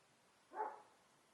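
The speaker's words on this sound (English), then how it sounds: "He's barking at the people next door." A single short, muffled dog bark, faint and somewhat distant, against a quiet background.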